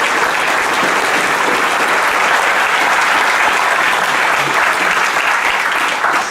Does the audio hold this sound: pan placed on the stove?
no